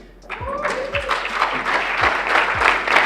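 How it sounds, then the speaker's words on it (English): An audience applauds a winner at a university capital-market challenge awarding ceremony, clapping building and holding steady while an amplified voice speaks over it at the start. "A hand of applause to Muhire Derrick,"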